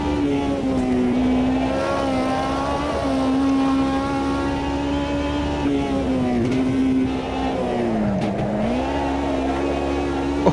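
A race car engine in the sim racing game Automobilista 2 holds a steady, loud high-revving drone, its pitch dipping and rising through gear changes and corners, with no talk over it.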